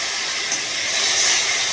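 Spice paste of ground coconut, melon seeds and ginger sizzles steadily in a hot pan, a close, continuous bright hiss with no pauses and no voices.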